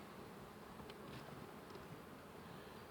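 A faint, steady drone of many honeybees at an open hive during frame work, soft and continuous with a couple of brief closer buzzes passing by.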